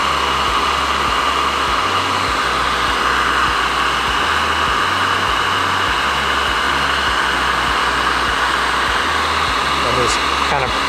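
A heat gun blows steadily to warm and loosen sealant around an edge, a continuous loud whooshing hiss with a low hum that runs unbroken throughout.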